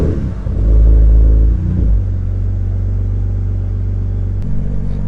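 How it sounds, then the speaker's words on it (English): A BMW E90 3 Series 328i/335i cranks and fires after a fuel pump and filter replacement, a loud low burst of revs settling into a steady, close idle with no one talking. "now that everything's primed up, we're gonna go ahead and start the car"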